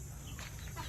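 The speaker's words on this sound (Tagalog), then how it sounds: "Ito naman yung mga maliliit natin na manok." Small chickens on a small backyard poultry farm cluck faintly and sparsely against a steady low background hum, with no talking.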